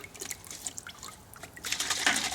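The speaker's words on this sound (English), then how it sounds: "Pour them in, again, liquid to liquid." Color liquid for a concrete micro-topping resurfacing system poured from a container into a bucket, thin trickling and splashing that swells into a louder, steady pour toward the end.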